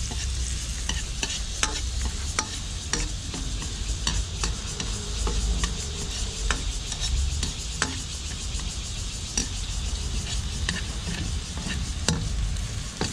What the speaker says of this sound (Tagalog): maglalagay po tayo ng bawang po. Ang gisa.